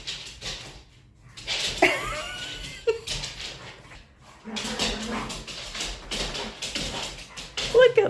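Two dogs, Hugo and Willa, romp and chase each other through a house, with scrabbling, thuds and brief yelps or whimpers in bursts, while a person talks over the commotion.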